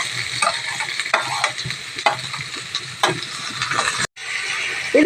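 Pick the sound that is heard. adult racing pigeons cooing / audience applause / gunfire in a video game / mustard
mustard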